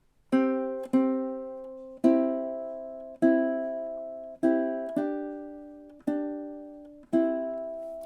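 A ukulele plays a steady strummed pattern from the Jamaican folk tune Day-O, eight bright chords ringing in even rhythm with occasional quick doubled strokes, each decaying before the next, close-miked and unaccompanied by voices.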